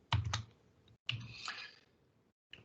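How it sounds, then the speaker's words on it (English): A short burst of typing on a computer keyboard, a handful of faint, close key clicks in two quick clusters separated by brief pauses. "So I'm going to type hello world."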